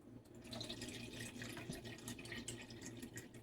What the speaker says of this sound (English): I'm going to put a cup and a half of water in my pan